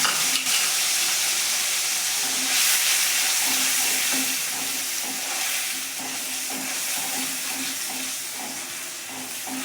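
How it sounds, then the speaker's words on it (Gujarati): Tomato gravy hits a hot tempering of asafoetida and whole garlic for spiced stuffed brinjal, giving a loud, continuous close sizzle that eases slightly over time, with no talking. "વઘારમાં બળવા નથી દેવાનું હવે આપણે નાખીશું ટામેટાની ગ્રેવી"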